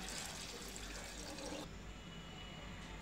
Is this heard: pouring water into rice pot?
yes